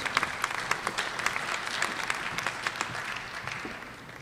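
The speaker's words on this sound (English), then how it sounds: "A round of applause for social sciences recipients" Sustained audience applause at a fall honors ceremony for award recipients, many hands clapping at a steady, moderately distant level that tapers slightly toward the end, with no talk over it.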